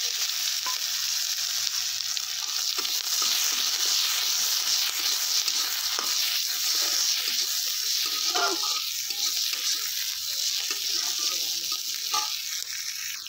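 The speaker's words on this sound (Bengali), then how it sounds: "তো জিরে আর তেজপাতাটা ভালো করে ফ্রাই হয়ে এলে এবার আমি কুচিয়ে রাখা পেঁয়াজটা দিয়ে দিচ্ছি।" Chopped onion lands in hot oil with frying cumin seeds and bay leaf, giving a constant loud sizzle. Light stirring scrapes sound through it all the way.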